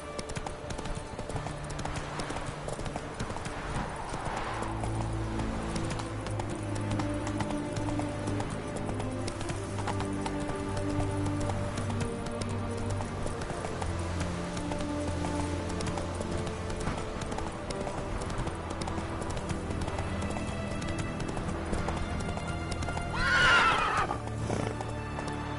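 Roach, a horse in the video game Witcher 3, gallops with steady hoof clip-clops and occasional neighs and whinnies over a continuous bed of game music, loud and close throughout.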